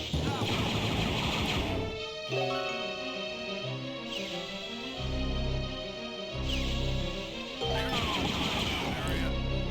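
Turrets in the Dark Forces Remaster video game fire bursts of blaster gunfire, sharp repeated volleys and crashes layered over a tonal game soundtrack, coming in several waves.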